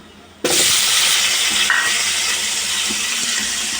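Tomatoes are tipped into hot oil for chicken soup, setting off a sudden loud sizzle that keeps up as a steady frying hiss while the pan is stirred.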